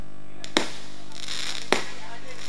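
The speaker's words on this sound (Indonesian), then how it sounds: "Kami mohon untuk petasan diberhentikan." Firecrackers go off at a religious lecture gathering in Jakarta, two sharp bangs about a second apart over a steady background of crowd noise and murmuring voices.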